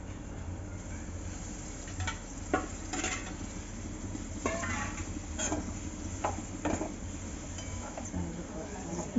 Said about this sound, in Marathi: आता आपण त्यामध्ये धुतलेली मांदेली टाकूया।